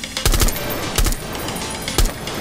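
Gunfire in a Rainbow Six Siege match, three short sharp bursts spaced about a second apart, loud and close over a constant hiss of game ambience.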